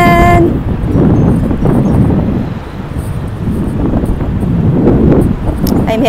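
Wind gusting outdoors in the evening beside a store, a steady loud rumbling roar buffeting the microphone throughout, with no talk.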